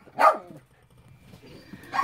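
Two dogs barking in short sharp bursts, one loud bark near the start and another near the end, with quiet rustling between.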